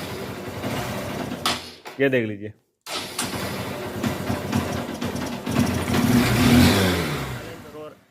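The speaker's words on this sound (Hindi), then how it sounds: "जैसे एक्सलेटर देता हूँ बाइक बंद हो जाती है" A Honda CB Shine motorcycle engine runs rough, revs up and sputters out, cutting off briefly before catching and droning on loudly up close while someone speaks over it.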